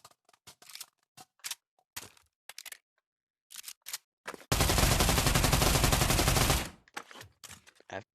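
Mini AK rifle firing on a gun range in the Pavlov VR video game: one sustained burst of rapid automatic fire, loud and close, lasting about two seconds, between short clicks and handling noises.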